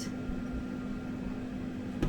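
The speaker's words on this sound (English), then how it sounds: "that I've just switched off is my air fryer" An air fryer hums steadily nearby with a constant mechanical drone and a faint fan whoosh, continuous and even throughout, ending with a short click.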